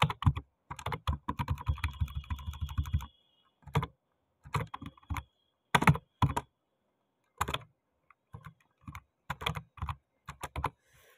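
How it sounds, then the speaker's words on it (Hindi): Computer keyboard typing, close and crisp, with a dense burst of rapid keystrokes, then shorter clusters of clicks separated by pauses, with no talking. "पहले यहाँ पे जो है 1 2 3 जो है अपन यहाँ पे टाइप इन कर लेते हैं"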